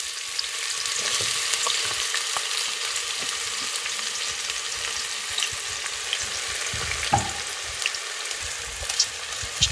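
Chopped onions frying in a pan with bay leaf, cardamom and star anise, a steady close sizzle broken by occasional stirring scrapes and clinks, with no talking.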